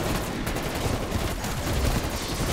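Sustained gunfire in the Die Maschine zombies mode of a Call of Duty game, loud and dense, with rapid overlapping shots and booms, no talking.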